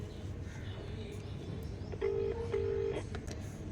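A mobile phone being dialed for a call gives a few short electronic keypad tones near the end, faint over a steady background hum.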